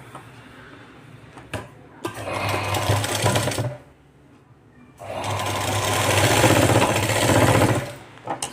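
A sewing machine stitching small tassels for a boat-neck blouse runs in two bursts of rapid, steady mechanical whirring, separated by a short pause and light handling clicks, close and clear.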